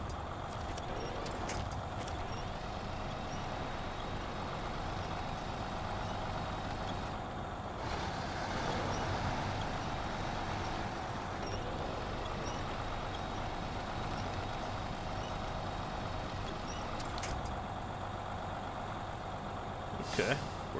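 A MAN TGS 6x6 heavy truck in SnowRunner grinds through mud, its engine a steady low drone with occasional hiss and clatter. The sound runs continuously for about twenty seconds and stays at moderate volume.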